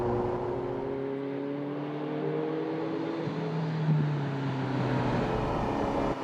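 A Ferrari turbocharged supercar accelerates smoothly, its engine droning steadily with rising harmonic tones, close and loud throughout without any voices.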